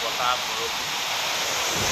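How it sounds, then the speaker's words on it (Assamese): Steady, dense roar of strong storm wind buffeting the microphone, a continuous broadband rush with no pauses. "বতাহটো চাওক কেনেকুৱাকৈ মাৰি আছে খালি বতাহ"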